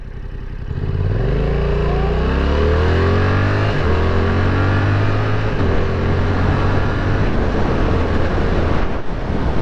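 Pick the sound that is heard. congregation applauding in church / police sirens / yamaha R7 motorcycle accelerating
yamaha R7 motorcycle accelerating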